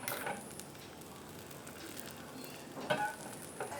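Cashew nuts frying in ghee for Ashoka halwa, a soft, steady sizzle close by, with a few stirring scrapes near the start and again toward the end.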